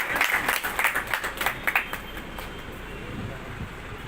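Audience applause at a POP award ceremony: a burst of clapping in the first two seconds that thins out and fades into a low murmur of room noise.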